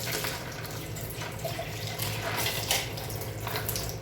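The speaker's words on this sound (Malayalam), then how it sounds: "കുറച്ച് വെള്ളം ഒരു കാൽ ഗ്ലാസ് വെള്ളം ഒഴിച്ചിട്ട്" Water runs steadily into a mixer jar, a continuous close splashing rush lasting a few seconds.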